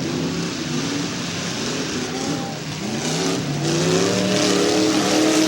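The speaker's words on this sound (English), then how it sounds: "That 165 car of John Yates is one loud car." Race cars roar around a short track during a 2005 race, one car notably loud; sustained close engine drone with rising and falling pitch as cars pass, steady and loud throughout with no talk.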